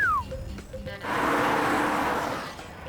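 Maserati 3.2-litre twin-turbo engine with 370 bhp rises into a loud, sustained broadband roar as it is revved, following a quieter opening with faint voices; the revving holds strong for about two seconds before easing slightly.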